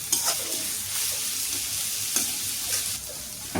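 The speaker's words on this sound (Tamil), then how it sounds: "நல்லா கோல்டன் கலர் வரைக்கும் ஆனியன் வதக்கிப்போம்." Onions sauté toward golden in a pan for village-style mutton head curry, a continuous close sizzle with a few scraping stirs and light clatter, no voices over it.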